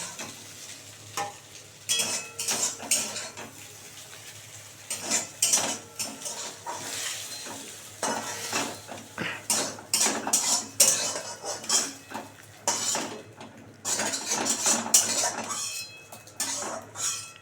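Egg fries and gets scrambled in a wok for egg chow mein, with repeated loud metal spatula scrapes and clanks over a constant sizzle, each stroke sharp and close.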